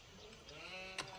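Sheep in the Age of Empires 4 video game give a single short, faint bleat against quiet in-game background sound.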